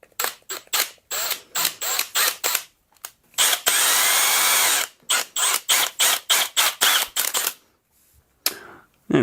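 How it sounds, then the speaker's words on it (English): A power drill with a slightly thicker bit bores into a draw knife handle, running in short repeated whirring bursts with one longer sustained run in the middle, loud and close. "with a slightly thicker drill bit, I'll go in part way"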